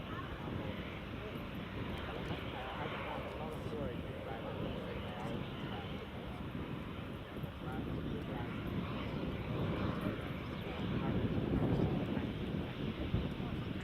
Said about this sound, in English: 9H Global, Airbus A380 800.